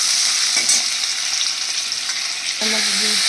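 Chopped vegetables and ginger frying in a pan for vegetable suji, a loud continuous sizzle with occasional scraping stirs close by and no talking.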